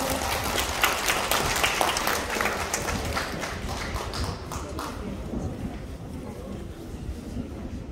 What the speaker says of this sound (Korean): 박수로 맞아주세요.